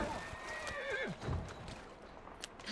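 A horse neighs in the Assassin's Creed Syndicate video game, a clear descending whinny near the start with a second shorter neigh after it, over a busy ambient game background with faint hoof clatter.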